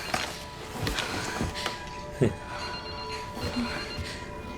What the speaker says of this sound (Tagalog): Sino mag-iisip na gumagana pa yung telepono na yan?